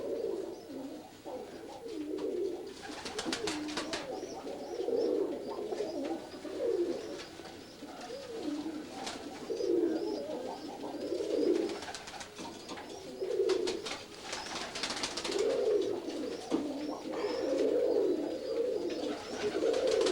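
Pigeons coo repeatedly in soft, low rolling phrases, several birds overlapping at moderate distance with faint rustling between calls.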